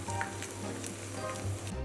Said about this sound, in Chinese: 锅内倒油，小火煎制，煎到底面发黄后翻面，继续用小火煎制